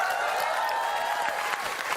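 A studio audience at an Indonesian TV comedy show claps in steady, even applause that fills the room for a couple of seconds.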